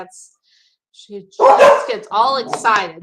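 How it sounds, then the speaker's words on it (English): Excited dogs at home barking close by, a burst of loud yips and barks overlapping someone speaking. "sorry about the barking"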